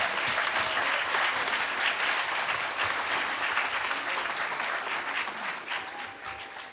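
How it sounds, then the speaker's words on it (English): A loud round of applause from a graduation audience for campus staff at the Evergreen Tacoma campus, dense and sustained before tapering slightly at the end. "Let us give them a round of applause."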